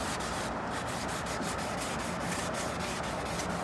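A sanding pad is rubbed by hand over a painted surface in steady, continuous scratchy strokes with random changes of direction, close and even in level with no pauses.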